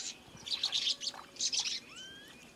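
Small Galapagos finches chirping close by on an island where animals are tame, with bursts of quick high tweets and a couple of rising whistled notes over quiet background.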